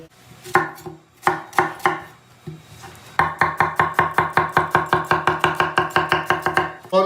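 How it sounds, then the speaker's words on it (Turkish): A knife chops eggplant and other vegetables on a cutting board, first in a few slow, separate strokes, then in a fast, steady run of crisp, close taps. "Diğer malzemeyi doğrayacağız şimdi."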